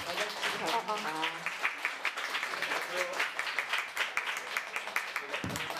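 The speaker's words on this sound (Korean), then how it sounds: "박수로 맞아주시기 바랍니다" Audience applause welcoming a film director at a screening talk event, brisk clapping under a speaking voice at first, then continuing on its own with distinct claps.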